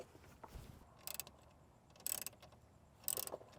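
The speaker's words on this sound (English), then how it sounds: "I'm gonna go get a socket wrench to make sure it's nice and tight." A socket wrench ratchets as it tightens a nut during a Ford Bronco speaker installation. It gives three short, faint bursts of clicking about a second apart, with no talk.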